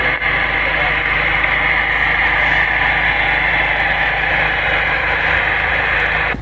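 Vehicle engine idling at a portable ham radio operating site, a steady continuous low hum and rumble under faint radio static, with no clear speech.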